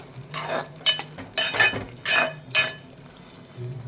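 A spoon scrapes and stirs mushroom masala with onion-coconut paste in a pan, giving several rhythmic, close scraping strokes with a faint sizzle between them.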